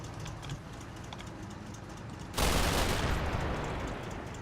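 A video game vehicle's gun fires into the ground just in front of it: faint distant pops, then a loud sustained burst of rapid fire that slowly tapers.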